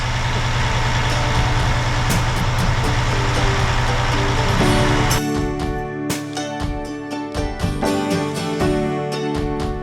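A heavy Peterbilt 359 semi truck diesel engine idles with a deep steady rumble, then cuts off midway, leaving scattered clanks and knocks nearby.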